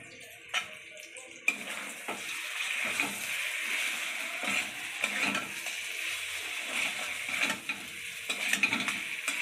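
Ghee heating in a pan for potol korma, a steady close sizzle with intermittent spoon clinks and stirring knocks over the crackle.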